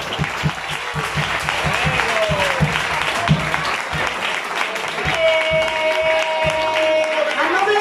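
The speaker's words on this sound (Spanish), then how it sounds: "Ese aplauso a Cristo" A church congregation applauding Christ during a Pentecostal service, sustained crowd clapping with rhythmic beats early on, voices and cheering mixed in, loud and continuous.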